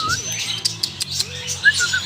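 Birds in a deer park aviary with pigeons and cockatoos, giving short chirps, whistles and squawks close by over a low background hum, with brief clicks scattered through.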